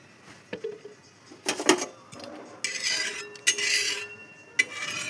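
A spatula spreads oil over a hot flat iron griddle on a gas flame, making sharp metallic clinks and scrapes followed by a rising hiss and sizzle.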